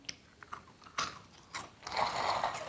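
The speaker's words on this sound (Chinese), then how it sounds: "撒上刚才炸好的馒头，听这个声音" Crispy fried mantou bun pieces are scattered over soft tofu, giving light crunchy rattles and a louder rustling spill near the end, close and quiet with no talking.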